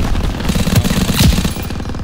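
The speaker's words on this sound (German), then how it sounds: "Ich hab noch nie 32 Schüsse rausgehämmert" Rapid machine gun fire in Call of Duty WWII, a loud close burst of many quick shots hammering out in a steady rhythm for about two seconds, with no talk over it.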